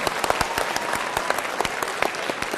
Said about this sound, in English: Come on, you can clap louder than that.